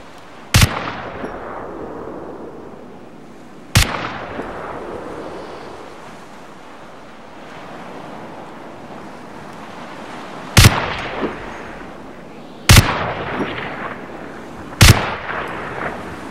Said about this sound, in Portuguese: Muito realista, ó, o som da arma, ó.